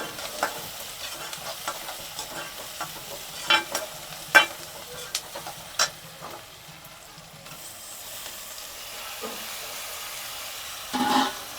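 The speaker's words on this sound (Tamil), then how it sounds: "தக்காளி சேர்த்தாச்சு. நல்லா பச்சை வாசனை போகணும். தக்காளி நல்லா வதங்கணும்." Tomatoes sizzle in a pan of prawn gravy with browned onions, a continuous soft frying hiss punctuated by several sharp spoon knocks and scrapes, ending in a brief louder sputter.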